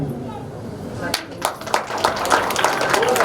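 An audience claps at an engagement and sangeet ceremony, scattered claps building into lively applause under a voice.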